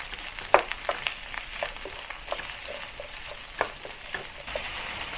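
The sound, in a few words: chopped garlic frying in a pan with onion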